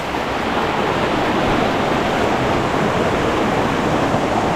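Strong river current rushing in a steady, dense roar that is close and loud, with no talk over it.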